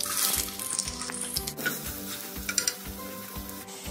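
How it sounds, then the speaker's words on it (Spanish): Onion and chili frying in a little oil in a clay pot, a steady close sizzle with occasional stirring scrapes and soft clinks throughout. "voy a comenzar a freír la cebolla y el chilito. Aquí yo ya tengo una cazuela calentándose. Solo le voy a agregar un poquito de aceite."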